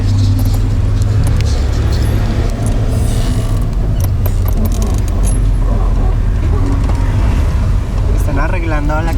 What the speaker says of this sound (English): there's an enormous amount of traffic right here